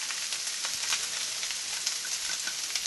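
Tamale filling sizzles steadily in an overheated pan with a dusting of flour, a continuous bright frying hiss that stays close and even throughout, with no voices.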